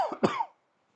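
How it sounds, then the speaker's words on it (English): A single close, throaty cough, preceded by a short vocal sound, during an outdoor summer garden tour, then quiet. "Hang on, I'm just going to cough."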